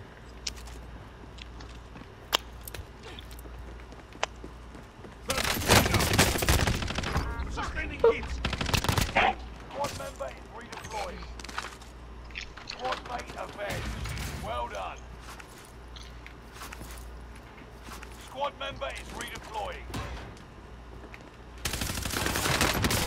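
Gunfire in Call of Duty: Modern Warfare: rapid bursts of automatic fire and scattered single shots, with a dense, loud stretch of shooting in the middle, while a player talks throughout.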